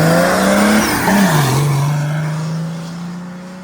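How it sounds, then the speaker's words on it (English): A turbocharged OM603 diesel car launches hard, its loud engine drone climbing steadily and then dipping through a gear shift before pulling on, close and without talk. "Much better launch this time. Man, the shifts sound really interesting."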